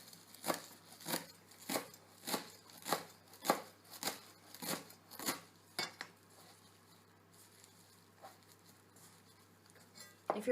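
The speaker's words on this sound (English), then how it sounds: "So I'm taking half and I'm going to just chop it. I want it to be finely chopped." A sharp knife finely chops fresh parsley on a cutting board: about a dozen crisp, evenly spaced chops for six seconds, close and clear, then quiet with only faint kitchen clatter.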